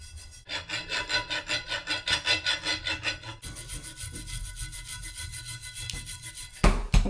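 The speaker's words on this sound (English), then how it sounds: "we've thoroughly cleared the threads with our wire brush and our thread chaser" Wire brush and thread chaser scrubbing old pipe threads on a riser during a tankless electric water heater install, a steady close rhythmic scraping that shifts tone midway and ends with a couple of louder knocks.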